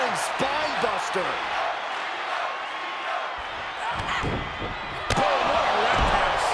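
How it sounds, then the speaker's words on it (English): A spinebuster in WWE 2K23 lands with a heavy slam thud over a cheering arena crowd, followed by further impacts, while a commentator talks throughout. "Ooh, earth-shattering spine buster."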